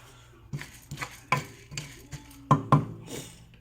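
Rice grains dry roasting in a hot, non-stick-free pan, pushed around with a wooden spoon: a series of sharp scraping knocks and rattles, close and fairly loud, arriving every half second or so with no talking.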